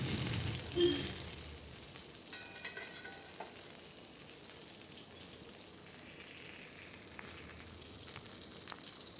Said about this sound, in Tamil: தேங்காய் எண்ணெய் யூஸ் பண்ணி காடையை முன்னாடி பின்னாடி நல்லா குக் ஆகிற மாதிரி ஃப்ரை பண்ணி எடுத்துக்கிடலாம்.